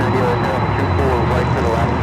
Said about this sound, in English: you can hear those 767s miles away